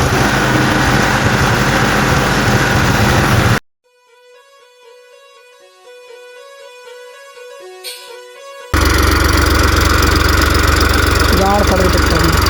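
A tractor engine runs loud and close in a potato field, a steady rough rumble. Soft music briefly replaces it in the middle before the engine noise returns at full strength.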